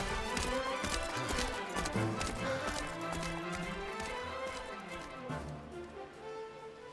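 Rapid hoofbeats of a galloping horse in Dragon Quest XI pound steadily, with music playing loudly over them throughout.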